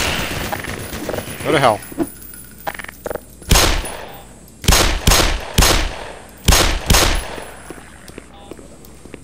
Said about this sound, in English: I love automated defenses that shoot at me.